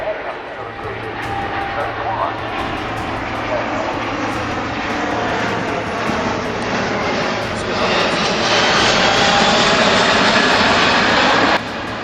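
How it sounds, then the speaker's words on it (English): An Airbus A380 airliner banks heavily over Farnborough, its jet engines producing a loud, sustained roar that holds steady and swells slightly toward the end. "The moment the Airbus A380 banked heavily over Farnborough"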